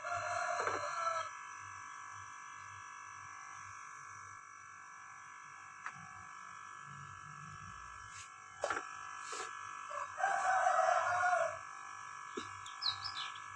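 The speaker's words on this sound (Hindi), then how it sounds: "मुर्गे भी सारा दिन बस अजाने देते रहते हैं" Roosters crow twice, once at the start and again later, fairly distant over a steady mechanical machine drone with faint chirps and scattered small knocks in between.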